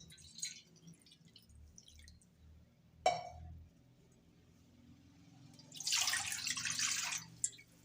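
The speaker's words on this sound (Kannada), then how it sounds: "ಇದ ಬಾಳಿಗೆ 2 ಕಪ್ ನೀರು ಹಾಕ್ಯಂತ ನೋಡ್ರಿ" Water poured from a cup into a pan at home: a sharp splash, then a longer, louder pour of two cups of water, with quiet background noise between.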